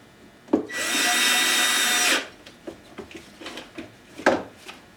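A power drill whirs steadily at high speed for over a second, followed by scattered clicks and knocks of handling.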